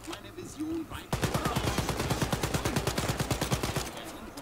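Rapid automatic gunfire in the shooter game Wolfenstein: Youngblood, played on a PS4 Pro, firing in a loud, steady stream of closely spaced shots for about three seconds after a brief quieter lead-in.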